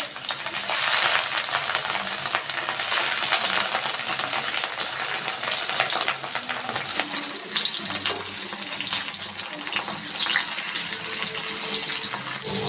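Loud, continuous sizzling and crackling of rohu fish frying in hot mustard oil in a kadai, close up, with a few faint clinks of utensils.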